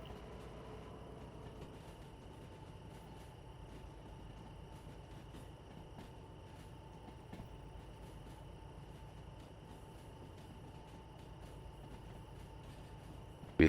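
Freight train rolling on rails in the Derail Valley game, a faint, steady rumble with occasional soft clicks over a constant tonal hum, heard alone.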